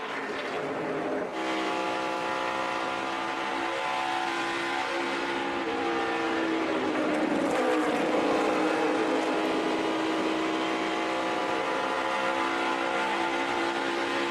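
NASCAR Nationwide race cars at the 2014 Indiana 250 at Indianapolis roar steadily on track, a continuous loud engine drone with tonal harmonics and a slight swell midway, no voices.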